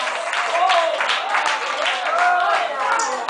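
A church congregation claps loudly in praise, a steady wash of applause running through the whole stretch, with a voice speaking or singing over it.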